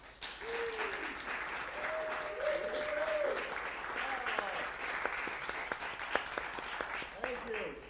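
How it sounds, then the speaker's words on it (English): Applause rises from an audience at a live music venue, a rippling spread of clapping with scattered sharper claps, while a voice speaks over it near the microphone. "It's the sound of real applause."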